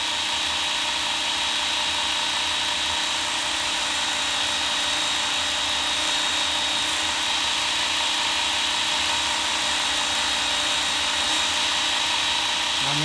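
A Work Sharp Ken Onion belt sharpener runs steadily while honing a chisel bevel, a constant close motor whir with a high belt hiss, with no talk.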